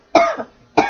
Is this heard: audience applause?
no